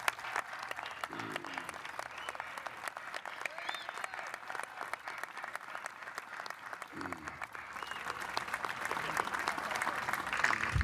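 At an eagle sculpture dedication, an audience gives the sculptor a steady round of applause, moderately loud and continuous throughout, with brief voices mixed in.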